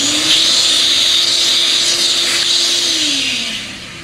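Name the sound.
vacuum cleaner sucking up drilling debris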